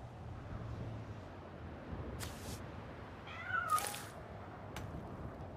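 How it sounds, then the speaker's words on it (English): A single small cat meows briefly and faintly midway, its short call set against a low background hum, with no one talking. "Oh, his cute little cat."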